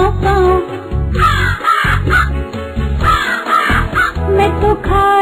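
A voice imitates a crow's loud, repeated caws over the music of a Hindi children's poem, sounding in rhythmic bursts close up.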